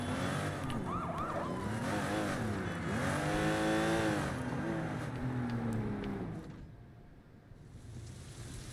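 A car drives in the open-world video game Sleeping Dogs, a continuous engine drone with rising and falling revs and a siren-like wail layered over it, fading slightly near the end.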